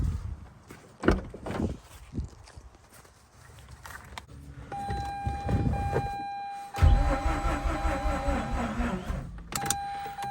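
A Mazda RX8 with its engine cranking on a 550 cranking amp battery, an uneven starter whir and churn coming in bursts after some handling and clunks, close by, with a steady electronic tone over it.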